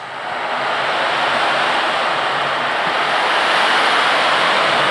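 Iron balls rolling inside an ocean drum imitate sea waves, a steady continuous wash of surf-like hiss that swells in over the first half second and holds loud and even throughout.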